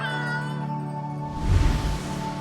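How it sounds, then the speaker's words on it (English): A cat meows in the video game Life is Strange True Colors, one drawn-out cry rising over a sustained musical tone, fairly close and clear. "Smartass, there's a cat. outside the shop"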